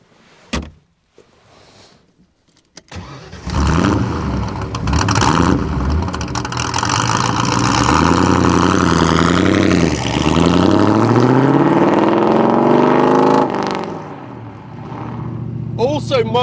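An AC Cobra 289, a classic roadster with a hand-formed aluminium body, clicks and bangs as a door shuts, then its engine fires and revs loudly, the pitch rising and falling through gear changes as it drives off, settling to a steady run near the end.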